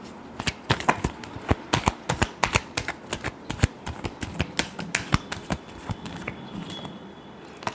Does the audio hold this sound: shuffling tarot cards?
yes